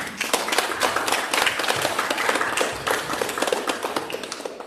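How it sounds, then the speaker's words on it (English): Audience applause at a community cultural day event in Rushmoor, a crowd clapping steadily with distinct individual claps audible throughout, moderately loud and close, with no talk over it. "give her a round of applause."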